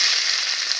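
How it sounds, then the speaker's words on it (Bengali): Chopped onion dropped into hot mustard oil in a wok, giving a brief, bright, hissing sizzle that stays loud and steady without any voices. "এবারে দিয়ে দেবো পেঁয়াজ কুচি"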